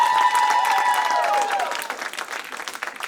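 An awards-ceremony audience claps hands in a dense burst of applause that thins toward the end, with a faint tone and scattered voices beneath.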